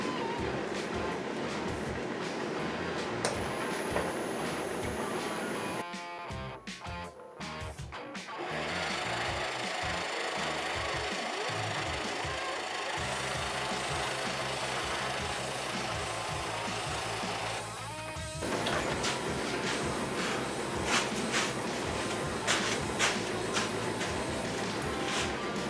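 A wood lathe turns slowly at around 200 RPM while a large drill bit bores into a wooden pocket mirror blank, giving a continuous grinding, rubbing drone that shifts in tone midway. The sound is close and steady, with no talking.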